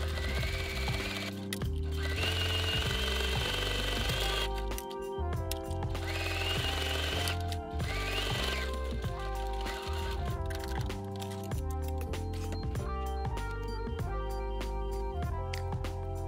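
A sewing machine stitches the inner edge of a fabric wristlet key fob with a 1/4 inch seam allowance, a steady loud mechanical whir that runs continuously with brief pauses.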